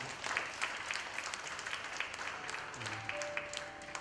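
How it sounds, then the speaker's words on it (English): A church congregation claps during a sermon, a soft, distant wash of many hands that stays fairly even throughout, with a faint tone drifting in near the end. "Let's give God a clap offering."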